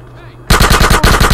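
Machine-gun fire in the video game GTA San Andreas: a loud, rapid burst of automatic shots begins abruptly after a quiet moment, with a brief break before the rattle resumes.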